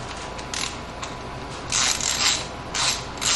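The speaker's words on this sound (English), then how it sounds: "This is actually a pretty nice ratchet." A hand ratchet working on the primary cover of a 1980 Harley-Davidson XLH Sportster: a close, steady run of fine clicking, swelling into louder bursts of rapid ratcheting, with no talk.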